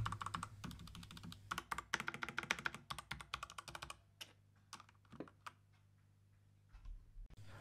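Rapid typing on a Zebronics Nitro Pro mechanical keyboard with Outemu Red switches, close and steady, a dense run of clicky keystrokes that thins out into scattered taps toward the end.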